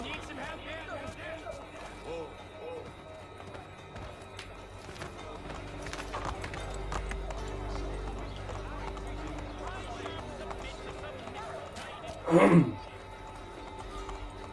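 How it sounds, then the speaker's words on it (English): Horses trotting through a village in the video game Assassin's Creed III, a steady clip-clop of hooves running under game sounds and background voices, with one brief louder burst near the end. "Just trotting our horses through the village."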